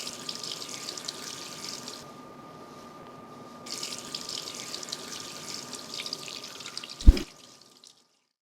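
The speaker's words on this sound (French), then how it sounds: "Là, je vais rincer juste la zone donneuse." Tap water runs steadily into a sink while the donor area of a scalp is rinsed after a hair transplant, a continuous close hiss with one brief change partway, ending in a sharp clunk before the flow cuts off.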